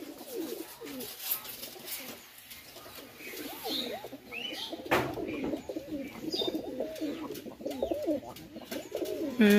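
Pakistani highflyer pigeons coo repeatedly in soft, rolling phrases close by, with some light rustling and a sharper noise partway through.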